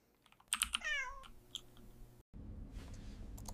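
A cat meows in an AI-generated scene: a loud, sliding meow rises and falls near the start, mixed with clicking taps, then a low steady hum takes over after a brief gap.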